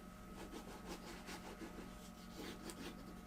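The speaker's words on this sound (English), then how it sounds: "Now if I were to rub this over the top, that picks up some of what's" Something is rubbed back and forth over the textured surface of a layered abstract painting, giving a soft, faint, rhythmic scraping with about a dozen short strokes close by.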